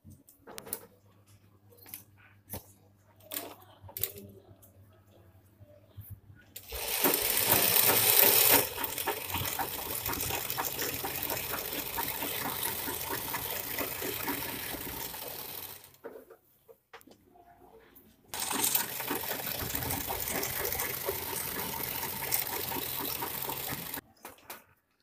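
A sewing machine stitches a petticoat in two long, steady whirring runs, the first about nine seconds and the second about six, split by a short pause and preceded by quiet handling noises, close and moderately loud.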